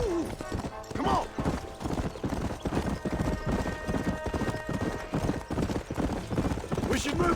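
Horse hooves clip-clop at a steady riding pace in the Red Dead Redemption western video game, with a brief whinny near the start and voices speaking over the rhythmic hoofbeats.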